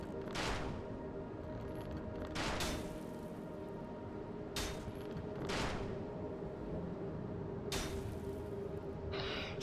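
Anor Londo archers loosing arrows in the Dark Souls video game, sharp whooshing releases spaced a couple of seconds apart, some in quick pairs, over a constant low ambient hum.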